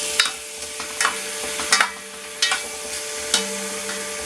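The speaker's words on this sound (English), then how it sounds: "I'm just going to sear this and then we'll add bits in." Beef browning in a hot pan for goulash, with a continuous hiss as background and sharp scraping stirs breaking through every half second or so, up close and loud, with no one talking.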